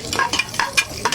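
Garlic stirred and frying in a pan over moderate heat, with a soft sizzle under repeated spoon or spatula scrapes in an uneven rhythm, close up and without voices.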